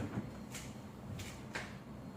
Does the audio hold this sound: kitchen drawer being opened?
yes